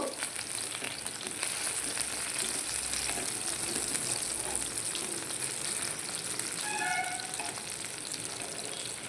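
Chicken pieces fry in a wok after being flipped, a continuous close sizzle and crackle with a few faint stirring touches, no voices.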